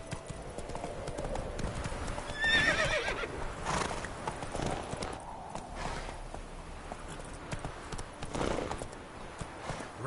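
Horse galloping in The Witcher 3 game, rapid clip-clop hoofbeats with a whinny partway through, steady and fairly close, with faint effects around them.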